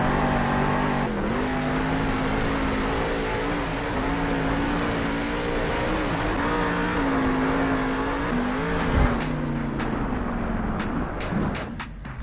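Monster truck engine at a Monster Jam arena event in Salt Lake City, Maximum Destruction on its final lap, roaring loud and steady with shifting revs for twelve seconds, then sharp bangs and a dip in the drone near the end.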